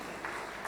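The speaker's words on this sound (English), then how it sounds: "So ladies and gentlemen, yes, he deserves a big round of applause." An audience applauds at a medical CME gathering at ITC Royal Bengal: a brief, moderately faint patter of clapping hands, steady with a couple of slightly louder swells.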